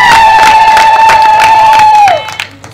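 A church congregation at a gospel crusade breaks into loud, sustained applause and cheering, with a long shrill whistle or ululation riding over the clapping for about two seconds before the noise drops away.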